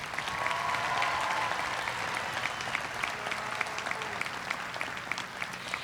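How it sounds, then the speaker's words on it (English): Steady applause from a large crowd at a 2021 high school graduation ceremony for distinguished scholars, a dense even wash of clapping sustained throughout at moderate loudness. "Let's give our distinguished scholars a round of applause."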